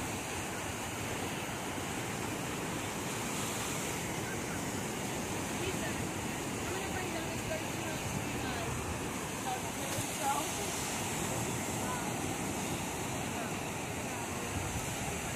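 Ocean surf at sunset rolls as a constant broad wash of noise, steady and moderately loud with wind on the microphone, no distinct individual breakers standing out.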